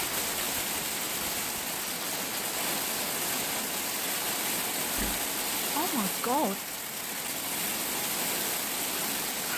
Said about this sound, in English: Hail in June.